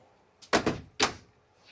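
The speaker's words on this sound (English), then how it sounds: "Oh, the door doesn't want to cooperate." A wardrobe door in a 2025 Entegra Accolade XL motorhome is handled, giving two or three quick knocking, rattling clunks close by, followed by one more sharp bump.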